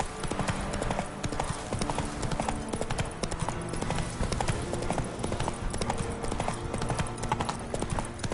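Roach, the horse in The Witcher video game, clip-clopping at a brisk, steady rhythm: dense, continuous hoofbeats with game sounds layered beneath.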